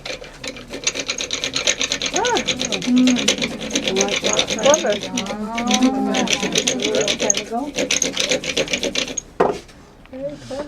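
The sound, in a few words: hand drill turning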